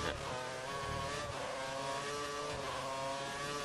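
Felipe Massa's Ferrari in the F1 2013 racing game roars past with a continuous high-revving engine whine, loud and close, sustained throughout.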